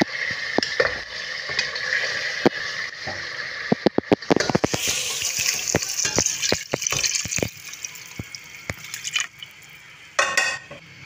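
Water poured into beef nihari masala frying in a pot, bringing a loud burst of sizzling and bubbling with scattered clicks and splashes that gradually settles into a softer simmer.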